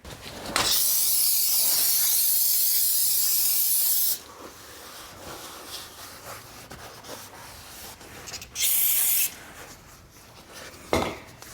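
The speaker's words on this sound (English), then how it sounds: "So now this grease needs to be sprayed with brake cleaner." Two bursts of brake cleaner sprayed from an aerosol onto grease on a Toyota AE86's brakes, a long hiss of several seconds then a shorter one, with clanks and light handling noises between.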